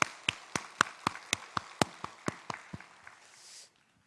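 Congregation clapping together inside a church in a rhythmic, unison beat of about a dozen sharp claps, fairly close and evenly spaced, fading out near the end.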